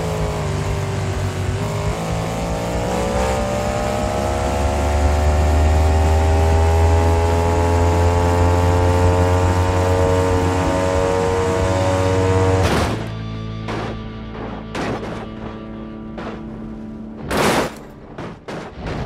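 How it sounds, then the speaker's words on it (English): Max D monster truck engine roars at full throttle in BeamNG Drive, pitch climbing through a high-speed jump, then cuts off into a series of heavy metallic crash impacts and scattered bangs. "And Max D with an epic crash."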